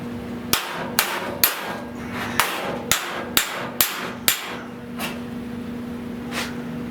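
Hammer strikes against a dolly while flattening a car's lower fender: about nine sharp, metallic blows at a fairly even pace, close and distinct over a low steady hum, then one faint final tap.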